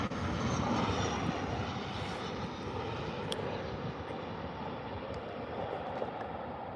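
A TUI airliner descending on final approach to land at Birmingham Airport, heard as a steady, broad engine roar with wind-like rumble that holds level throughout, moderately distant, with no talk.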